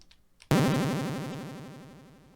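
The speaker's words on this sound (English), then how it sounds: "it's running these arpeggios really fast, which is a common technique in chiptune music" Rapid chiptune-style arpeggios race from a Dirtywave M8 tracker in one bright, buzzy burst that slowly fades, after a moment of faint near-silence, with no voices.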